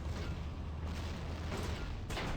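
Artillery fire rolls through a tank strategy battle game as a continuous dense barrage of booms and bursts, loud and close, with no pause and no voices.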